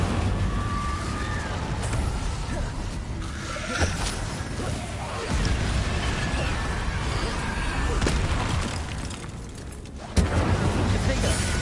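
Spell-casting bursts of the Incendio fire spell in the Hogwarts Legacy video game: repeated booming, crackling blasts over dense combat noise and background game audio, with a sharp loud burst near the end.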